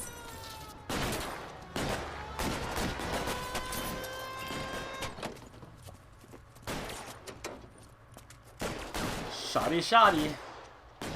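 Gunfire during a bank robbery shootout in the video game L.A. Noire, with bursts of sharp shots and rapid fusillades spread across the clip, some ringing and some dense, while someone speaks briefly.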